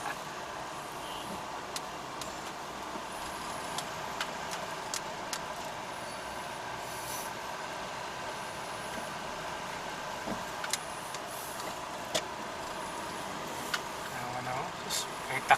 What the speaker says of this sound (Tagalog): Bumper to bumper ang traffic.